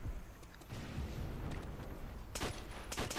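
Assault rifle firing single shots in Call of Duty: World at War, with several sharp reports standing out near the end over busy, rumbling battlefield noise.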